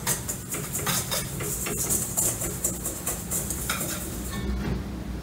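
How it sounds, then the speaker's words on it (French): Water is stirred into a play dough mixture in a bowl, making a continuous wet, scraping churn with soft clinks of the utensil. The sound is close and steady and nobody speaks. "là on va commencer à verser de l'eau et mélanger les choses ensemble."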